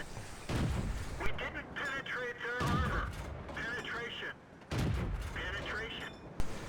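World of Tanks cannon fire on the Karelia map, with T-29 tanks shooting: several booming shots at irregular intervals alongside battle clatter, while a voice talks over much of it.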